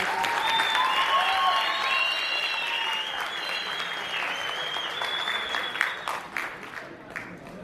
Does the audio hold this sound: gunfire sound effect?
no